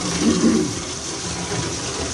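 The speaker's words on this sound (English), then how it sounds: "I just turn on the hot water." Hot water gushing from a tap into a container holding granular fertilizer, a steady close rush that swells briefly at the start, no talking.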